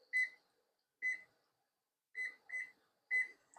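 Kitchen timer beeping as it is set for a jelly boil, five short electronic beeps at uneven intervals, clear and close, with nothing else around them.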